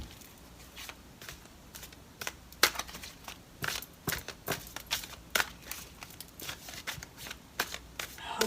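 Tarot cards shuffled by hand give soft, papery riffles and flicks in uneven bursts, close up and fairly quiet, with no talking.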